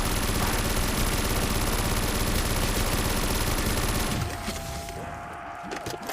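Rapid bursts of firework-style weapon fire in Call of Duty Custom Zombies, loud and dense for about four seconds before dropping to quieter scattered game noise.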